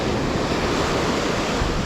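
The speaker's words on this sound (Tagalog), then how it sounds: "Yung alon lakas." Strong ocean waves crash and roar continuously on the coast at Salalah, Oman, a dense, loud wash of surf with wind rushing across the microphone.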